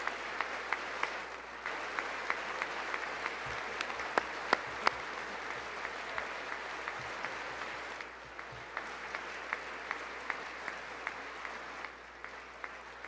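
Steady applause from a large audience at a State of the Union address, sustained for many seconds with a brief dip and swell, heard from a distance through a broadcast feed.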